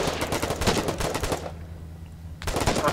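Rapid automatic gunfire in the war game Foxhole, a loud, dense burst of repeated shots that stops for about a second, then resumes.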